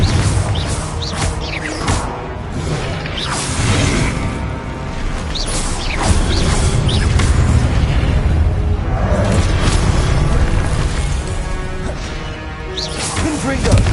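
Confringo blasting spells booming and crashing repeatedly in Hogwarts Legacy combat, dense layered explosions and whooshes with spoken spell shouts over a busy game mix.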